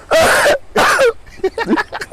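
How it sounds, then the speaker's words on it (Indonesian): A few harsh, noisy coughs in quick succession, close by, followed by softer throat sounds. "Sampai batuk gua."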